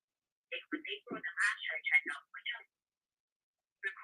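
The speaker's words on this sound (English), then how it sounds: "So I'm receiving your voicemail right now, and I'm going to leave a message for her." A telephone call reaching voicemail, with a thin, narrow-band phone voice speaking a short greeting in a quiet line before a pause, then briefly resuming.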